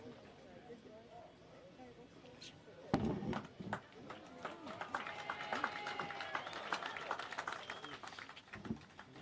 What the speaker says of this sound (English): Crowd clapping there